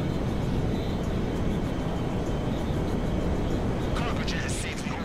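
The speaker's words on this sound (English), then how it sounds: "Cargo jet has safely orbited the desert." A cargo jet in Grand Theft Auto V drones with a dense, constant broadband roar, loud and unbroken, while people talk over it.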